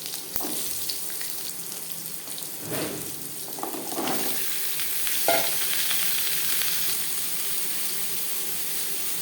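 Papaya pieces frying with cumin seeds in hot mustard oil, a steady sizzle with a few louder crackling bursts as the pieces go in and get stirred, close and continuous without talk.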